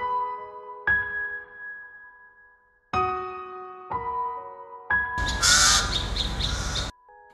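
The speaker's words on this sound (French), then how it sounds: "ces corbeaux habitués des lieux, dont le croissement signale la présence d'un brin de vie" Crows cawing near an empty, silent site in Côte d'Ivoire, several separate harsh calls spaced across the stretch, with a louder burst toward the end, no voices present.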